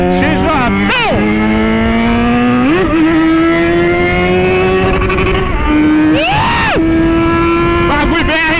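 A Yamaha XJ motorcycle revs hard through several gears, its engine note climbing in sharp sweeps and dropping at each shift, loud and close with wind noise and brief bursts of rider speech.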